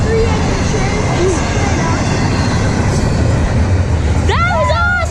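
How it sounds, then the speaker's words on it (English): A long CSX intermodal freight train with a mid-train DPU rumbles past close by, a loud continuous roar with rattling cars, and excited voices rise over it near the end. "That was a very long train, and there it goes."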